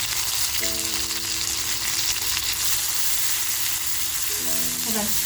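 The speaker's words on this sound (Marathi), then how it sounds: "तेल छान तापले सगळी लसूण तापून घेतली आहे" Garlic sizzling loudly in hot oil in a pan, a dense, continuous crackling hiss close up, with faint tonal hums briefly rising and a few soft clicks near the end.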